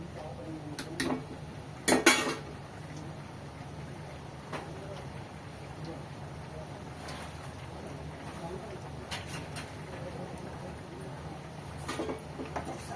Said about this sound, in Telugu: మసాలా వేసేసి ఒకసారి అయితే బాగా కలిపేసుకుంటాను